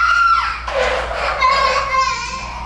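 A young boy screams in long, loud, shrill bursts, close and continuous, with a few breaks between cries.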